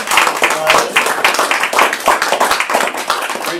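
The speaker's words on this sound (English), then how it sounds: "let's give Riley a round of applause" A crowd claps steadily for a few seconds, dense overlapping applause at a consistent loudness with no voices over it.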